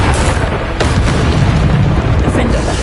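A Bombarda explosion spell from the video game Hogwarts Legacy booms heavily and loudly, with continuous rumbling combat noise and a voice shouting over it.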